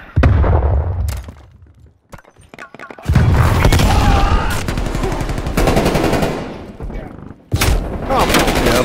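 Incoming artillery and heavy gunfire in a military video game: loud booms and rapid machine-gun bursts come in waves, with a gap of near silence early on and a synthetic radio voice over the din.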